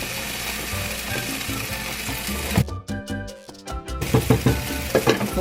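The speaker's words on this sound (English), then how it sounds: "Let that kind of simmer for a little bit." Traditional pasta sauce seasoned with onion powder and salt bubbling in a pan, a close sizzling simmer with clinking and scraping from stirring, broken by a short quieter stretch midway.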